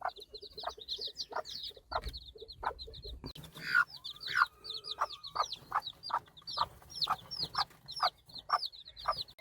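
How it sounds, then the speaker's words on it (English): A bantam hen clucks in short repeated bursts while small chicks peep rapidly and continuously around her, close by, with no voices. "this little bantam has managed to hatch out 5 lovely little chicks"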